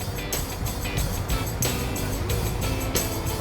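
A car engine runs steadily at close range, a continuous low rumble with broadband noise and a few brief louder bursts over about three seconds, no speech.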